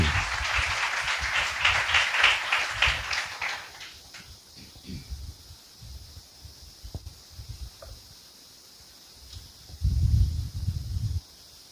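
A church congregation claps together in a dense burst of applause for several seconds, then it fades into a quieter room with faint scattered sounds, a low voice and a short burst of clapping or rustle near the end.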